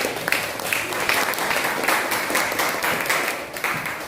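A classroom of students claps for a classmate after a presentation on anecdote texts, a lively burst of hand clapping with uneven rhythmic pulses, close and fairly loud.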